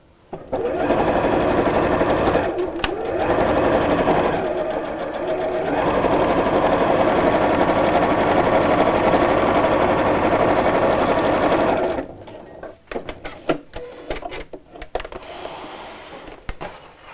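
A sewing machine stitches around the edge of a quilted tote, a loud rapid steady whirr running for long stretches with two short pauses, then giving way to brief clicks and handling sounds near the end.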